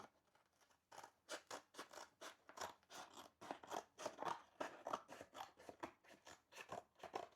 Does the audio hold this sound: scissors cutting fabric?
yes